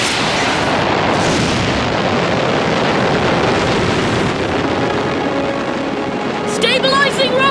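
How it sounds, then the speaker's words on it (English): A cartoon rocket blasts off with a loud, sustained roaring whoosh that fills the whole stretch, and a brief chirpy sound effect comes near the end. "Prepare for blast-off!"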